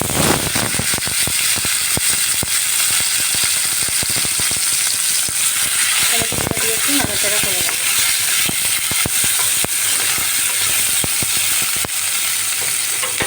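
Chopped tomatoes go into hot fat in a pan for a Bengali jhinge and fish-bone chorchori, giving a loud, steady sizzle and crackle with scattered spits and pops throughout.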